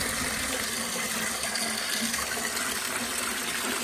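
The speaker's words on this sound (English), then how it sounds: "I fill this up with water" Water pours steadily into a roof-washing tank through a dump valve, a continuous broadband gush that stays loud and close with no talk over it.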